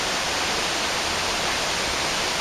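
A river swollen after heavy rain rushes at Villa Kalisat, a dense, steady roar of churning water filling the whole clip without a break.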